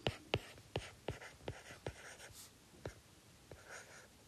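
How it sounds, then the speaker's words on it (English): A pen or marker drawing on a surface during a probability lesson, making a series of quick scratchy strokes in an uneven rhythm, close and faint with no talk over it. "I'm trying to draw it so that I don't have to write it out."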